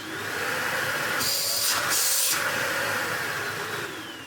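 A vacuum cleaner runs steadily as a quiet, constant whine and whoosh, with a brief brighter hiss partway through as if the airflow changes, then it carries on alone.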